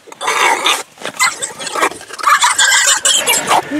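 Pigs squeal and grunt loudly in sharp, repeated bursts close by while having ear tags put in on a farm, the noise rising and falling in agitated waves.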